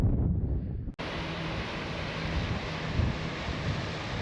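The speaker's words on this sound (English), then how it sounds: "There is a cold wind blowing in and a dark cloud just barely peeking over the mountain." Cold wind blowing across the Colorado high country near mountain lakes, a loud continuous rush buffeting the microphone, briefly cutting out then returning as a steady roar with no voices.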